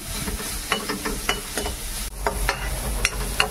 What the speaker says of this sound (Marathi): तेल टाकलं थोडं, आता कांदा मस्तपैकी ब्राऊन होईपर्यंत आता मस्त असा कांदा आपण ब्राऊन कलर भाजून घेऊया